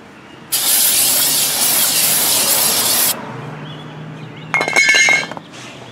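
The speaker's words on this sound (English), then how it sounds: "I'm going to spray off the wax and coating they put on the chip" Aerosol brake cleaner sprays onto a new brake rotor during a brake job on a Saturn S-Series, a loud continuous hiss lasting a few seconds, followed by a cluster of close metallic clinks and rattles.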